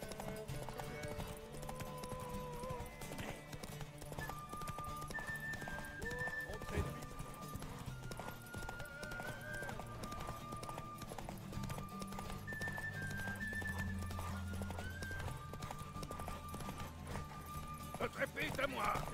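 Rapid hoofbeats of a galloping horse in The Witcher 3 pound throughout, with a whinny, set against game music and occasional talking voices.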